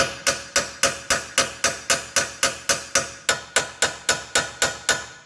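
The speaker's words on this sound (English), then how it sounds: "you can hit it again with the air hammer" Rapid, evenly spaced metallic air hammer strikes on a 2014 Kia Rondo lower ball joint, about three per second, loud and close, continuing steadily with no voices.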